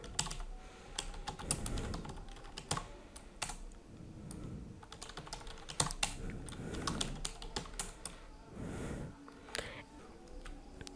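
Rapid, uneven clicking of keys on a computer keyboard as text is entered into a field, close and moderately quiet, with brief pauses between bursts.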